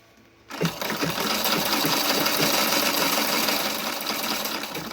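A sewing machine stitches a fabric trim onto a dish towel. After a brief quiet start, a steady, fast, close mechanical whir continues throughout, with no talking.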